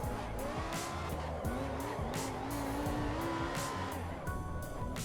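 A race car drifting through a twisty section in Assetto Corsa EVO, tires squealing continuously as the engine revs rise and fall, loud and close, with no talking.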